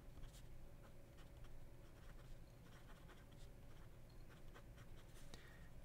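A Fuliwen carbon fiber gold fountain pen is moved quickly across paper, a faint continuous scratchy whisper of nib strokes with soft rhythmic ticks, close up and without speech.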